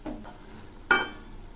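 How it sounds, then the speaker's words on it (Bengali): Jute leaves being fried in a pan give off a low, faint sizzle. About halfway through comes a single brief scrape as the greens are stirred, and then a quiet hiss continues. "শাকগুলো আবার একটু নেড়ে দিচ্ছি"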